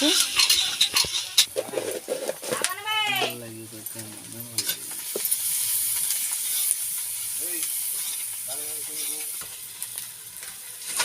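Onions sizzle and crackle in a hot pan as a continuous frying hiss. A goat bleats loudly nearby, and brief cries and other noises interrupt the cooking sound.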